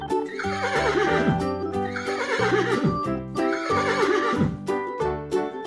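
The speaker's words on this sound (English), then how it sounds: "Horse." A horse neighs loudly and nearby, a repeated whinnying call sounding three times in a row with shaky, wavering pitch, with nothing else heard.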